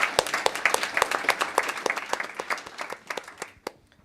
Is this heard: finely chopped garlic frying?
no